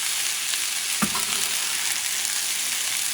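Shrimp stirred with spices and sofrito in a frying pan, a steady loud sizzle throughout with one brief scrape of a utensil partway through, no voices.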